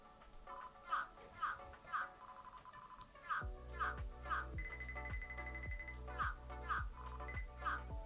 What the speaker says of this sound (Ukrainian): Бачимо і чуємо, як спрацьовує звук